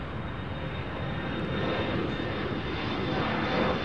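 Boeing 757 jet aircraft at Chicago O'Hare airport, a steady loud engine roar holding evenly throughout, with no voices.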